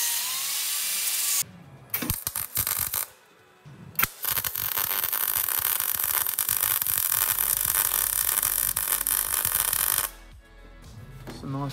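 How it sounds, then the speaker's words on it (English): Welding on the brake pedal of a 1965 VW T1 Splitscreen, a loud, close, continuous crackling hiss that starts in short bursts and then runs steadily for several seconds before stopping. "Nice weld. That's it. That is a nice weld."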